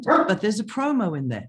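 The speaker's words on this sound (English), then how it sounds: "sorry, that's my dog." A pet dog barks a few quick, close yaps during a spoken presentation, mixed in with a person talking over it.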